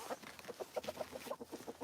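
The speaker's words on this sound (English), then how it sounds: "So yeah, chickens." Chickens clucking in a backyard flock on a Maine morning, a quick run of short, close clucks one after another with no talk.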